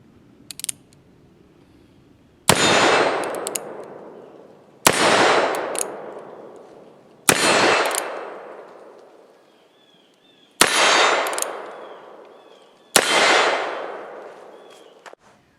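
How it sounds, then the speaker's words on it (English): Five loud gunshots from a Hawes Western Marshal single-action .44 Magnum revolver fired outdoors, each a sharp blast followed by a long ringing echo, spaced a few seconds apart, with faint clicks of the action between. "today we're going to be out here shooting one of my first single action revolvers"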